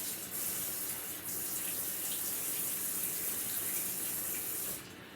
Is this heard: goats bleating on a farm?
no